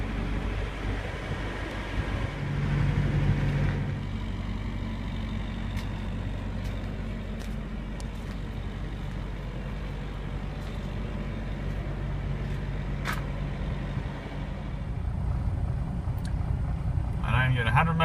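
Truck towing a trailer rumbles steadily along the road, a continuous low engine drone with wind noise throughout, swelling slightly louder near the end.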